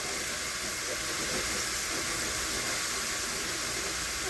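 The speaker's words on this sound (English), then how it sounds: "so now we're going to let those fry" Pork chop tenders frying in a pan give a loud, continuous sizzling hiss, dense and unbroken from start to finish.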